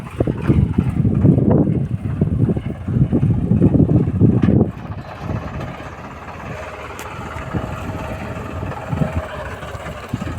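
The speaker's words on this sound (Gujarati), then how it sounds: "ટ્રેક્ટરના અવાજથી ભેહું ભડકે." A tractor engine rumbling loudly and close for the first few seconds, then dropping to a quieter, steadier drone mixed with wind noise.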